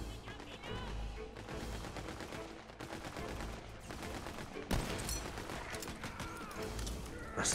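Rapid gunfire from the video game Tiny Tina's Wonderlands crackles in bursts and sustained volleys, dense and continuous, with a louder crack midway and a voice faintly under the shooting.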